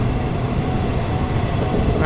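An old Malaysian jungle railway train on the line to Gua Musang rumbles steadily along with its door open, giving a loud, continuous low roar of wheels and rushing air with no talk.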